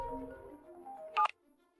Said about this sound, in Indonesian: Segera telepon Lin Feng untuk memberitahunya.